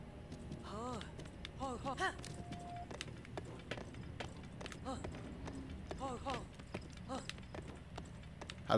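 Epona the horse gallops in Zelda: Breath of the Wild, a steady rhythmic clip-clop of hooves running at moderate distance, mixed with game effects and short whinny-like tones.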